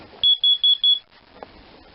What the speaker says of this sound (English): Now it's doing a couple of triple beeps.